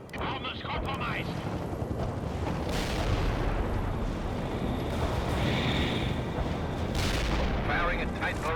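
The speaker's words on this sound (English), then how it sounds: "Firing a tight barrage at the target area." Artillery barrage in the World in Conflict war game, a dense and continuous roar of heavy booming blasts that stays loud and close for several seconds, with a faint voice underneath.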